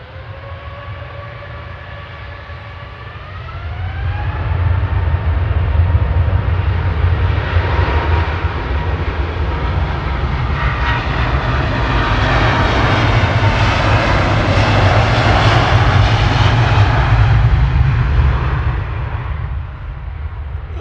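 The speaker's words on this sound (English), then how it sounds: "A350-1000 heading off to Doha." A Qatar Airways Airbus A350-1000 bound for Doha takes off at Manchester Airport. A rising turbine whine swells into a loud, sustained jet roar with deep rumble that holds for most of the clip before easing slightly at the end.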